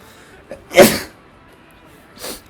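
A single loud, close sneeze bursts out after a small intake of breath, followed by a softer exhale or sniff a moment later.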